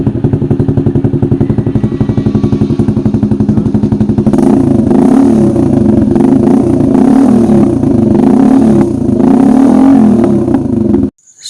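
Motorcycle fitted with an SC Project aftermarket exhaust muffler and a silencer insert, revving hard from a steady idle into loud, sustained throttle blips close by, cutting off abruptly near the end.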